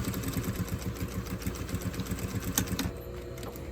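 A sewing machine stitches along the busk eye side at the centre front of an underbust corset, running in a fast, steady mechanical rattle up close before it slows and stops near the end, with no talking.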